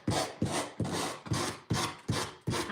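An electric sander rasps along the edges of scrapbook paper glued onto wood, seven rhythmic rough strokes about every 0.4 seconds, close and fairly loud with no talking.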